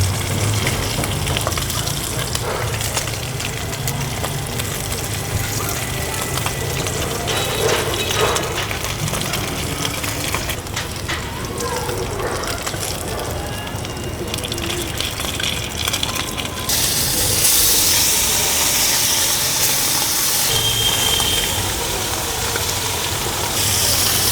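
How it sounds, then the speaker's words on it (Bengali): Tatkini fish fries crispy in hot oil in a home kitchen, a dense, loud crackling sizzle that runs unbroken throughout and turns brighter and harsher toward the end. "একদম মুচমুচা করে ভেজে দিব"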